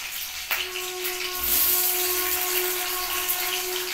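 Potatoes dropped into hot oil in a home kitchen, a sudden crackle followed by a steady hiss of frying that holds at an even level throughout.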